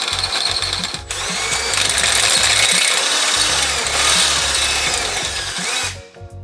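A power drill bores a half-inch hole clean through the steel frame of a 2017-or-later Ford Super Duty during a track bar install, loud and close, whining and chattering with a brief break near the start before cutting out at the end.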